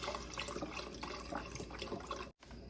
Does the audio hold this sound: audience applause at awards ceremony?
no